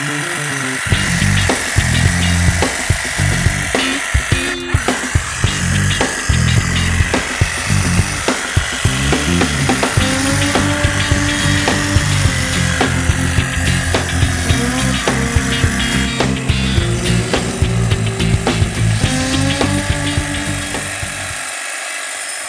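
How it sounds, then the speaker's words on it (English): Gas-powered hedge trimmer cutting through a barberry shrub: a loud, continuous buzzing engine drone with rapid chattering blade cuts and crackling twigs, close and sustained throughout before stopping abruptly. "This is a barberry shrub that Art is cutting now."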